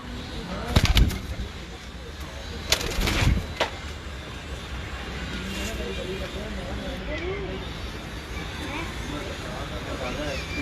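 Pigeons coo softly in the background at a pigeon keeper's loft, with a few sharp bursts of wing flapping early on, mostly under close talking.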